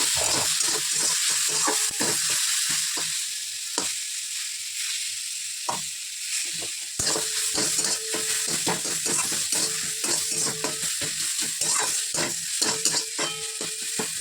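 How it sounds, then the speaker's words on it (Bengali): Garlic and green chili frying in a little oil as they are stirred, with a continuous sizzle and frequent rhythmic scrapes and taps of a spatula against the pan, close and fairly loud. "এবার এটা ভালো করে নেড়ে ফেড়ে নেব একটু সময় লাগবে ভাজতে"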